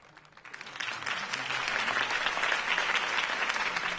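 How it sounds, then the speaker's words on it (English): A political campaign crowd breaks into sustained applause after a mayoral candidate's speech, the clapping swelling within half a second and holding steady and loud to the end, with no talk over it. "could have heard that applause"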